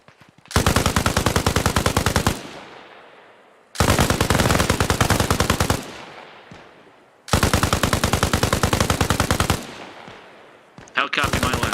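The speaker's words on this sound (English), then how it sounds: "We don't want to lift too soon since they're shooting back." Loud, close bursts of rapid automatic gunfire in the video game Arma Reforger, three sustained volleys of about two seconds each separated by short pauses, with echoing tails and a final shorter burst.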